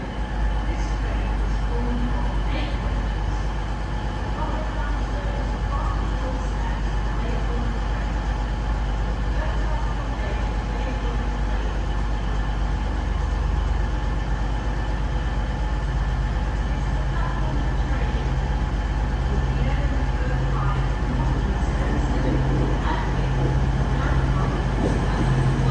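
A Trans Pennine Express passenger train idles at a station platform, giving a steady, loud low rumble and hum that holds for the whole stretch with faint background clatter.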